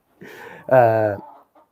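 Free-range hens, including leghorns, clucking up close: a short low cackle followed by a louder, drawn-out harmonic squawk, then quiet.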